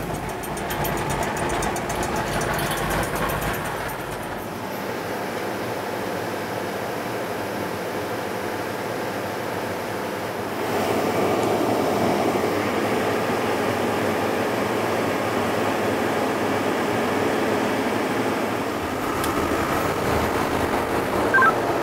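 A 120-year-old Burnley steam engine gives a steady mechanical hiss and rumble throughout, growing louder partway through, with steam escaping.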